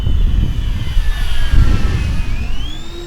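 An Airworld Me-262 model jet with twin 90mm electric ducted fans flies past at low throttle, a steady whooshing roar with a whining tone that bends lower as it passes, with wind rumble underneath.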